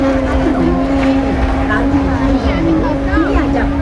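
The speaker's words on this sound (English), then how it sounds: "see if they're still racing the boats" A steady, droning engine hum of racing motorboats on a river fills the air, loud and continuous, with people talking in the background.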